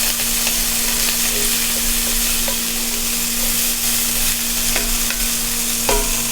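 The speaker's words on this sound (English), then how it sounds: "We're gonna get that in there with my peppers." Garlic and peppers sizzle steadily in a hot pan, a continuous close frying hiss broken by the light clicks and scrapes of stirring, with no talking.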